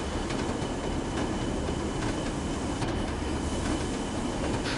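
A heavy 1,800-ton westbound oil freight train rolls downhill in Train Sim World, a continuous loud rumble of wheels and wagons with faint clicks and squeals and no talking.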